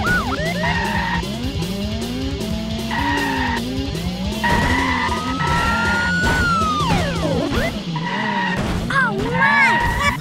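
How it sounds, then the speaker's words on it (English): A police car spins out during a city car-chase video game, with long tire squeals and skids over a steady engine drone. A siren wails throughout and a voice comments over it. "Another SCPD taking a spin!"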